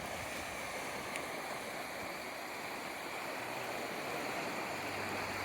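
Steady rushing water washes continuously over driftwood, a broad, even hiss of waves with no pauses, moderately loud and close.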